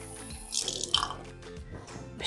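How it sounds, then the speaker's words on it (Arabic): Warm water poured gradually into pastry dough (fateer-style dough) in a home kitchen, heard as soft trickling and splashing bursts that rise and fall over a couple of seconds, fairly quiet with no talk. "وهبتدي انزل بالمية بالتدريج"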